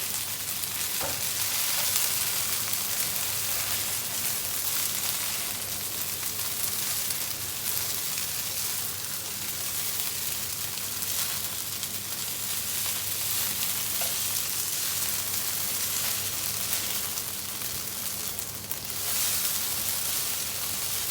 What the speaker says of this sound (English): Now I'm going to fry the rice noodles with medium fire.